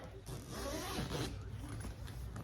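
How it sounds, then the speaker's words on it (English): Zippers being worked on a barber's travel bag, a mobile barber tray with front pockets, giving a couple of raspy pulls close up over about two seconds with no talking. "Got your zippers."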